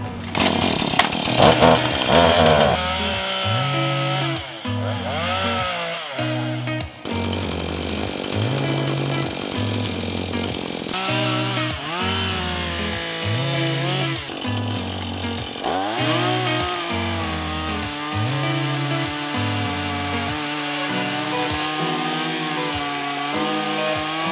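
A chainsaw cuts through a tree branch, engine revving up and dropping back repeatedly in loud, close bursts with brief idle dips between cuts.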